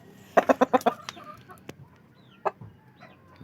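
A chicken lets out a quick run of loud clucks nearby in a backyard flock, followed by a few scattered softer clucks and calls.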